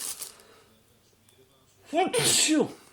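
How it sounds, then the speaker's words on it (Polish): One sharp, loud sneeze close to the microphone, with a quick breathy intake and a forceful burst near the end, preceded by a quiet room with faint rustling. "sorki, kichnęło mi się"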